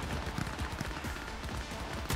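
A shotgun fires during a Cyberpunk 2077 fight: a dense, noisy stretch of gunfire and impacts with several hard blasts, the last one sharp near the end.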